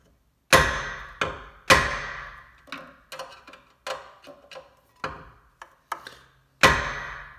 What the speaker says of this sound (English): next is to get a hammer here and just tap it